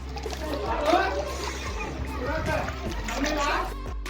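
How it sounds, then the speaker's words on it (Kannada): People swim and splash in the cold water of an oddly shaped, year-round-filled well, with irregular sloshing splashes under nearby voices and talk throughout. "ಯಾವ ರೀತಿ ಸ್ವಿಮ್ಮಿಂಗ್ ಮಾಡ್ತಿದ್ದಾರೆ ನೋಡಿ"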